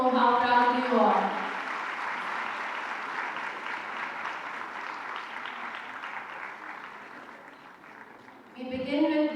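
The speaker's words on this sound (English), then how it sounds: "Your claps will let them know how proud you are." Sustained audience applause fills a university convocation hall for a women's university graduation, steady clapping from a large crowd that swells at first, holds for several seconds, then tapers, with brief speech at the start and end.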